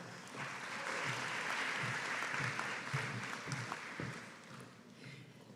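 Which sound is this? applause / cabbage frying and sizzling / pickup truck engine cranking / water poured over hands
applause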